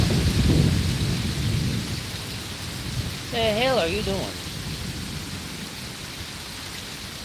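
A severe thunderstorm in Pittsburg, Kansas: steady heavy rain with deep, rolling thunder throughout, and a person speaks briefly over the downpour.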